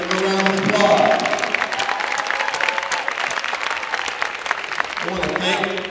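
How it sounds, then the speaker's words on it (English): An audience at a speech event breaks into a round of applause, clapping thickly for several seconds while a voice talks over it. "Give a round of applause."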